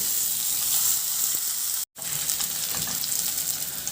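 Ginger and garlic sauté in reduced oil in a pan, a steady bright sizzle with soft stirring scrapes, broken by a brief silent cut midway.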